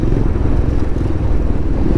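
A motorcycle being ridden on a bumpy, rough road in Nepal, its engine giving a steady, loud low rumble with road clatter that runs unbroken through the whole stretch.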